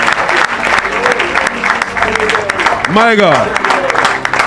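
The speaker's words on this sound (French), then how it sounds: "Acclamez pour la parole de Dieu." Applause from a church congregation after a sermon rises as a dense, steady wash of clapping, with a voice speaking and exclaiming over it.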